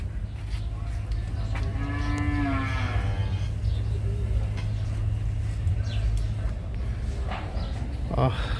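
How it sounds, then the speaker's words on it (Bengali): Cattle moo loudly nearby at the Gabtali livestock market, one long low call standing out over a busy outdoor din with distant voices and steady background rumble. "দেখতে পাচ্ছেন অনেক অনেক প্রজাতির গরু রয়েছে এখানে"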